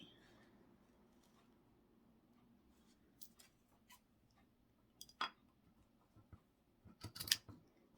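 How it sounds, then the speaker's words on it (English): Scissors snip through gray felt in a few quiet, scattered cuts near the end, close and soft with no talking, while a craft project for gnome shoes takes shape. "Just gonna cut the felt a little."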